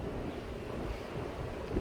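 Wind buffets a microphone outdoors on a hot, windy day in a hayfield, a steady low rumble of gusts that swells and eases, with no voices.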